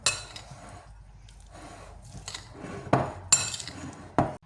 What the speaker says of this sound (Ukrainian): Це все перемішуємо.